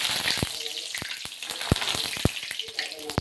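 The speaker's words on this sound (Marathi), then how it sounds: "थोडासा कमी गॅस करून घेऊया आणि आपण ह्या मिरच्या तळून घेऊया." Green chillies fry in hot oil in a kadhai over a lowered gas flame, giving a steady bright sizzle with crackling spits and pops throughout, close up and without talk.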